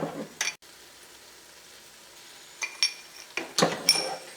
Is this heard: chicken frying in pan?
yes